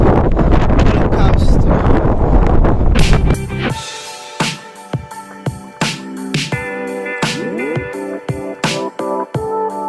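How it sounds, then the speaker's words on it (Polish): Strong wind buffets the microphone with a loud, rough roar for about three seconds, then cuts off to a quieter stretch with intermittent sounds that may include voices. "ale wieje"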